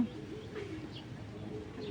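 A locally collected racing pigeon gives soft, steady cooing close by, a low throaty murmur running through the short stretch with faint chirps from other birds behind it.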